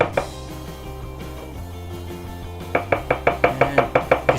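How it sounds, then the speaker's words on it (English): Knife chopping vegetable tops on a cutting board while making ramen, a quick steady series of close, crisp taps starting after a pause, over a low background hum. "Now take the tops and slice."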